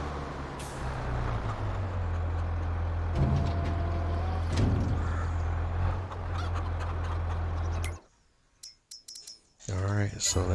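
Chickens cluck at a coop in the video game Farming Simulator 22, heard over a steady low vehicle engine drone, with a brief burst of clucking after a short near-silent gap at the end.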